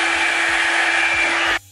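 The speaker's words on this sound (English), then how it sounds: "I'm running through with that blow dryer on low heat" A Revlon One-Step hair dryer and styler runs steadily on low heat with a loud, even motor whir and airflow hiss, then cuts off abruptly near the end.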